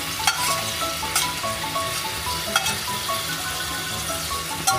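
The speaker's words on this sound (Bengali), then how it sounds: "ছেড়ে দিলাম আলু আর কাঁচকলা ভাজাগুলো আমরা এই কষার মধ্যে" Fried potato and green banana pieces tumble into a sizzling masala base for hilsa fish curry, giving a steady, close frying hiss with clattering stirring scrapes and a few sharp pops.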